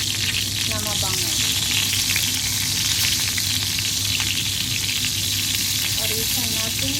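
Dried fish (bulad) frying in a pan gives a steady, close sizzle and crackle that holds for the whole stretch, with faint background sounds in the room.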